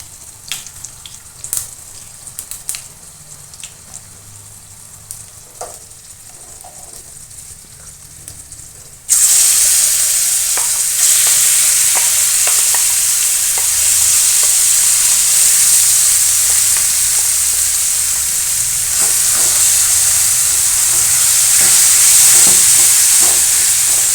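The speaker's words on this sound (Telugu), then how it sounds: "ఆ పచ్చడి అనేది ఇందులో వేసి మిక్స్ చేద్దాం" Brinjal chutney with fried garlic stirred in a hot pan, a loud steady sizzle and hiss taking over after a quieter stretch of light scraping, continuing evenly to the end with no talk.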